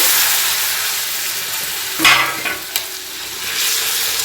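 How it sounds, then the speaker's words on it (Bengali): Chopped tomatoes hit hot oil and fry with a steady broadband sizzle, then a louder burst and a few quick stirring scrapes as they are worked around the pan for radish and pea dal. No one talks. "এই তেলের সঙ্গে সুন্দর করে টমেটোটা কষে নিতে হবে"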